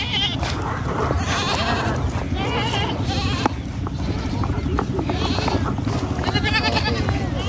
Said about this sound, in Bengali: ছাগলের শুধু ম্যামে শব্দ শুনতেছি